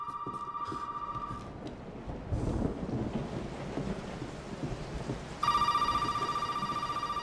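A telephone in Resident Evil 7 rings with a steady electronic trill at the start and again near the end, with low rumbling game ambience like a storm in between.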